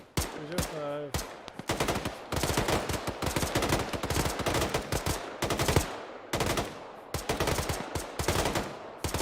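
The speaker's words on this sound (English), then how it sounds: "Lovo, get some fire down." Dense bursts of automatic gunfire in Arma 3 during an Iraq-set operation, rapid rhythmic volleys that continue nearly the whole time, loud and close, with brief pauses.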